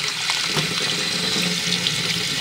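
Kidneys are rinsed one by one under a kitchen tap. The running water pours loudly and steadily into the sink throughout, with no talking.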